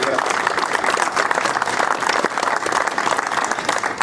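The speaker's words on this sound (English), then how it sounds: "I'll ask you to give her a big round of applause." At an Orange Order and Protestant human rights march, a crowd gives steady, dense applause that continues evenly for several seconds.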